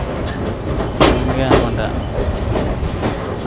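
Sanghamitra Superfast Express passenger train rolling slowly over a track section under maintenance work, with steady low rumble and soft wheel clatter throughout and two brief louder knocks; someone talks over it.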